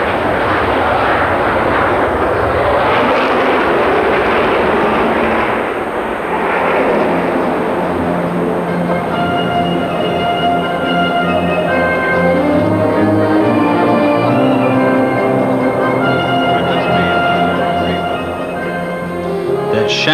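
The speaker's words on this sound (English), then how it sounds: "The turnout includes aeroplanes from all the squadrons who flew the Canberra." An English Electric Canberra bomber flies past with a loud, sustained jet engine roar that fills the scene and then settles into a steady droning whine with audible tonal harmonics.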